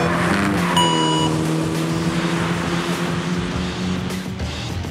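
A Toyota Celica GT-Four ST205 drives hard on a timed lap, its engine note loud and steady from inside the car, with a brief rise in pitch near the start and no speech.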